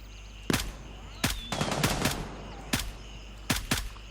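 Bursts of automatic gunfire in Gray Zone Warfare, a military shooter game: several sharp, loud volleys a second or so apart, some short and some sustained, with faint background ambience between them.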